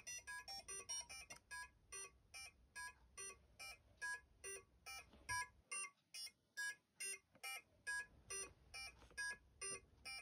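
Arduino-driven electronic bleeps played through two coffee cans as makeshift amplifiers, a quick repeating arpeggio of bright pulsed tones in an even rhythm, briefly thinning out midway before the full pattern returns, fairly faint and with no speech.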